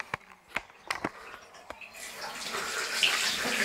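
A household water tap is off at first, with only a few sharp knocks and small sounds in a quiet room, then it is opened and water runs steadily, close and fairly loud, until the end.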